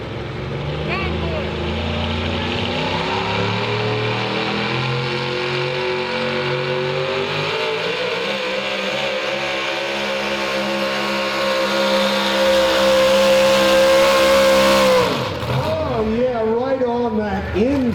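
An old school Chevrolet 4-wheel drive pulling truck at a truck and tractor pull runs its engine loudly, roaring in a sustained, rising pull before cutting off near the end.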